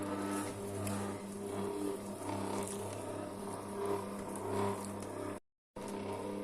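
A kitchen food processor kneads bread dough at low speed 1 with a steady motor hum and soft churning, near and fairly quiet. The sound cuts out briefly near the end, then resumes.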